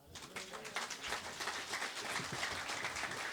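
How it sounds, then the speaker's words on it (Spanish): A congregation claps together at an evangelical church gathering during a Quechua-language service at a fiesta in Sumaccllacta, Huancavelica. The applause is dense and steady, filling the whole moment without a break. "¿Cuántos dan palmas a Jesucristo?"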